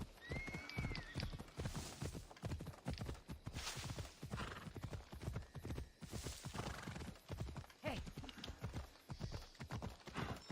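Steady clip-clop of horse hooves in a video game at a brisk, even pace throughout, close and continuous, with a brief whinny near the start.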